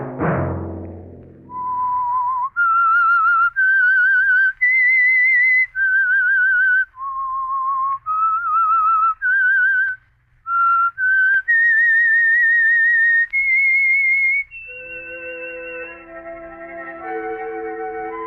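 A clear, loud whistled melody of held and sliding notes, solo, ending with a few softer musical tones fading in; the theme of the old-time radio drama The Whistler.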